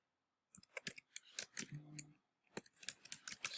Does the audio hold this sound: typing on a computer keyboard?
yes